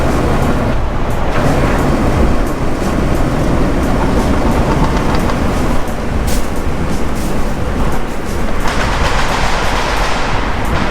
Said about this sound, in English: a good tunnel burble for you guys